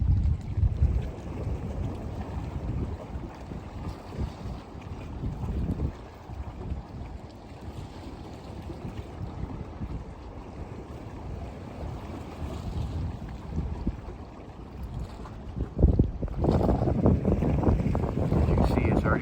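A 1,000-foot lake freighter loaded with stone slides into the mouth of Conneaut Creek at a harbor, heard as a steady low engine rumble and water wash under gusty wind noise on the microphone, continuous throughout.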